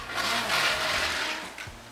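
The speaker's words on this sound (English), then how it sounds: "So you'll hear the sizzle, which was the water from the mussels." Mussels sizzle in a hot pan, a steady broadband hiss that fills the whole clip, with no talk.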